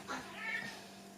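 A house cat gives a single short meow, close and fairly soft, heard alone against a quiet room hum.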